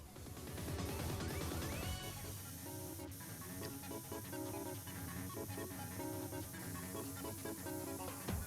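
A pressure washer hisses continuously in PowerWash Simulator, a steady spraying rush heard under busy background music throughout.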